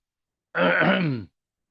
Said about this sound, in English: Doggone cough.